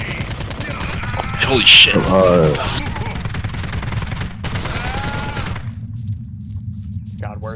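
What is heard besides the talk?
gunfire in the video game Postal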